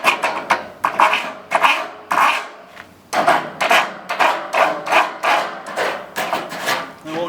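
A hand file touches up a metal edge during a tiny house trailer build, making a series of close, loud rasping strokes in a steady back-and-forth rhythm with only brief gaps.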